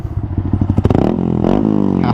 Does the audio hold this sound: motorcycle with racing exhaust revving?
yes